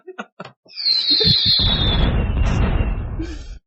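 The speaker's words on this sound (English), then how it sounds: "I don't know why I hit the firework button." A firework sound effect from a soundboard: a sharp whistle rises and fades, followed by a loud crackling burst that rumbles on for a couple of seconds after brief voices.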